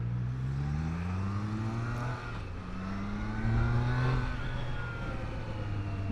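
A 2021 Triumph Trident 660 with an inline-three engine accelerates through the gears. The exhaust note climbs in pitch, drops at a shift, then climbs again under a steady rush of wind, with no one speaking.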